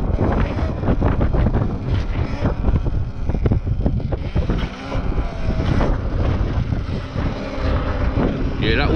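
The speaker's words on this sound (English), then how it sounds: "Yeah, that wind is strong, bro. It's blowing me left and right." Strong seaside wind buffets the microphone of a rider on an Apollo RFN electric dirt bike, a loud continuous roaring rumble with gusty surges throughout, and a voice speaks over it.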